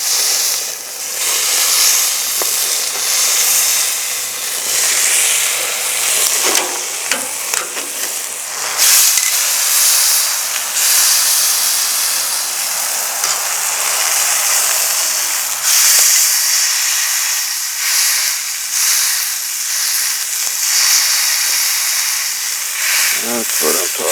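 Food sears and sizzles inside a park grill pizza oven over an open fire, a loud continuous hiss close by, with a voice speaking over it at times.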